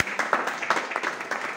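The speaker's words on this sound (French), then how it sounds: "on peut applaudir" Small audience at a talk on Ousmane Sembène applauding, a thin run of separate hand claps at moderate distance, fairly faint.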